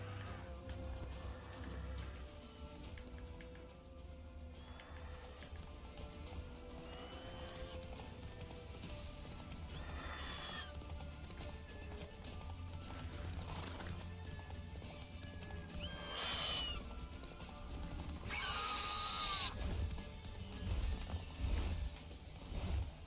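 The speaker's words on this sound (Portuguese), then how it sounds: "Bora, cavalo." In The Witcher 3, a horse's hooves clip-clop steadily under game ambience and music, with several shrill neighs and whinnies, and a player talks at times.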